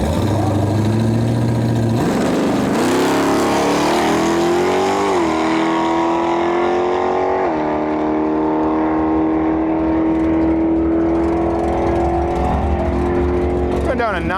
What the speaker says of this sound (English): There you go, 68 Camaro.